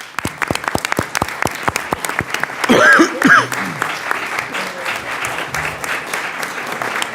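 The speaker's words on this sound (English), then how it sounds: "I think we need to give them a unanimous round of applause for their hard work" Scattered claps open into applause from a committee room audience honouring staffers during a Senate Banking Committee markup, thin and uneven at first, then a fuller burst with voices mixed in, fading under murmuring and background talk.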